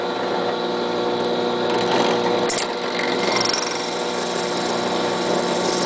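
A small drill bores a hole through an assembled, glued Iron Man model, running as a loud, continuous, steady whir for several seconds, close by with no voices.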